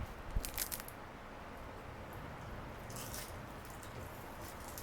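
A few close, crisp crunches at the start, then soft crackly chewing noises against a quiet background hiss.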